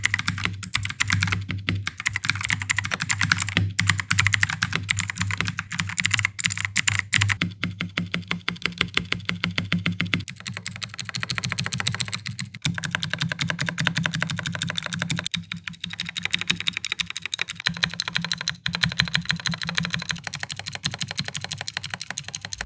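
Steady, rapid clicky typing on an Ajazz full-size mechanical keyboard with blue switches, each keystroke sharp and close, running continuously with a few short pauses.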